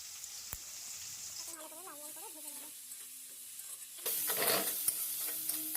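Chopped onion and green chilli hit hot oil in a Bengali rohu fish kalia pan, a steady close sizzle that jumps louder and busier near the end, with faint clinks and a short tonal squeak partway through.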